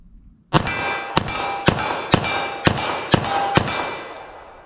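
Seven sharp .45 ACP pistol shots fired into ballistic gel crack out at a steady pace about half a second apart, each loud report leaving a brief metallic ring.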